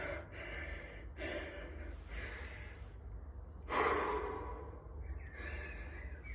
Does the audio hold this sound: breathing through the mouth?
yes